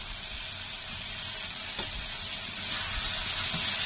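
Turmeric added to ginger, garlic, cumin and dried chilli sizzling in hot oil for a snakehead fish curry, giving a steady close hissing fry with a faint stir or two, no talking.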